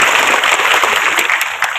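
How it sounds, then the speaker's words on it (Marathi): An audience claps loudly and steadily at a devotional Shiv Mahapuran recitation gathering held for a birthday, producing a dense, continuous patter of many hands with a few sharper claps standing out. "या सर्वांकरता एकदा जोरदार टाळी वाजवा"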